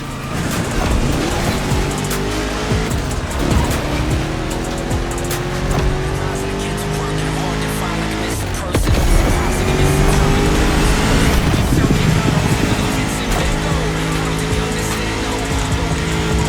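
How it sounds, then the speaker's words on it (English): A 1969 Mustang Boss 429 muscle car roars through a race in The Crew Motorfest. Its engine climbs through rising gear pulls with tire squeal and skids, loud and close, and other cars pass by. Speech is heard over the racing. "the star of my collection, the 1969 Mustang Boss 429"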